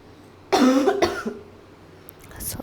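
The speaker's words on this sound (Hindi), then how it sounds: "खांसी हो रही है मुझे" Two close, forceful coughs in quick succession, then quieter rustling and a faint hiss trailing after.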